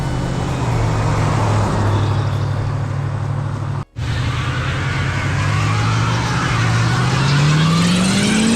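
A 1986 Chevy Caprice Super Stepside roars steadily and loud through a one-wheel peel, the engine holding a strong drone that climbs in pitch toward the end, broken by one very brief dropout midway.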